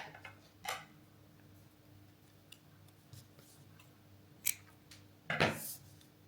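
Scissors snipping knitting yarn, a few faint sharp clicks scattered through a quiet room, with a louder snip near the end.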